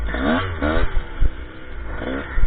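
A GPX TSE 250R dirt bike with a 225 cc engine rides through mud, its engine note rising and falling in short revving surges, close up, with clattering and scraping from the trail.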